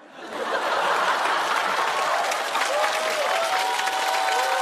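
A studio audience at a comedy roast show breaks into loud applause that swells within the first half second and then holds as a dense, sustained clatter of clapping.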